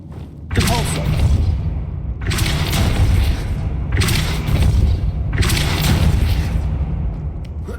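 Depulso spell cast in the game Hogwarts Legacy, a series of four heavy booming blasts with whooshing bursts, each lasting over a second and fairly loud.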